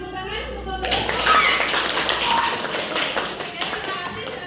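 A vocational school class in Blitar, Indonesia, applauding after a group presentation: a burst of dense clapping from many hands starts suddenly and holds steady, loud and close in a classroom, with voices mixed in.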